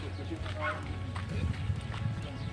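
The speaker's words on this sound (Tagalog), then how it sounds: "oh may kabayo." Hooves clop in a quick, uneven rhythm close by, while a person talks over them.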